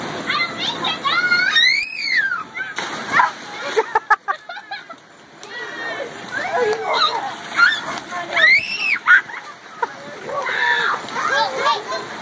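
Water splashing on a backyard waterslide at a family cookout, with bursts of splashing amid children shrieking and people talking loudly throughout.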